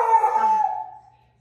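A dog gives a drawn-out howling bark indoors during a Pilates session, one sustained call that fades out over about a second, fairly close and alone.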